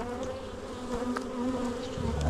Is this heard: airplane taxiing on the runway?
no